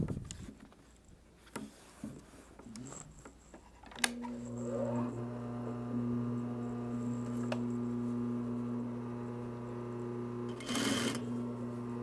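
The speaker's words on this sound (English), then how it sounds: "We'll sew past the cutout and back stitch, securing our seam." An industrial sewing machine sews a shoulder bag seam and then backstitches to secure it. After a few soft clicks and handling noises, a steady close motor hum runs for several seconds and ends in a brief, louder burst.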